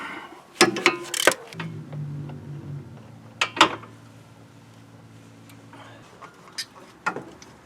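Metallic ticks and clicks from a socket wrench with a swivel head working the belt tensioner bolts on a Ford Fusion, a few sharp ratcheting clicks at irregular intervals over a low steady hum.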